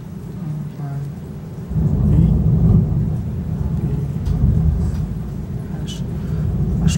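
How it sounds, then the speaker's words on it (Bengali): Heavy rain pours outside during a thunderstorm, a dense steady roar with deep low rumbling that swells partway through, heard from indoors with no talk. "আসলে বাইরে অনেক ঝড় হচ্ছে"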